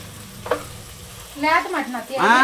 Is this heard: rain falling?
no